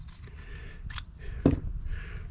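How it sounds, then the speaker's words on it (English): A couple of quick scissor snips cut through stiff 1.5 ounce fiberglass mat, close by, with faint rustling between the cuts. "Plain old pair of scissors."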